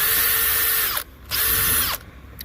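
A Makita brushless hammer drill whirs loudly in two bursts, each winding up to a high steady whine, then spinning down with a falling pitch before a short pause.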